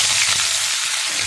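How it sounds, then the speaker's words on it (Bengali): Chopped onion frying in hot oil with whole cumin seeds and a bay leaf, a steady dense sizzle that stays loud and even throughout the short stretch with no voices. "ফোড়ন থেকে সুন্দর সেন্ট বেরোলে এবার আমি পেঁয়াজ কুচিটা দিয়ে দেবো।"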